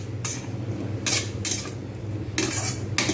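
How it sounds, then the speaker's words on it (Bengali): A spoon scrapes and clatters against a pan while chilli chicken masala is stirred over low heat, in several separate close strokes with a soft sizzle running underneath. "এরকম করে আমি কিন্তু একদম আঁচ কমিয়ে নাড়াতে থাকবো"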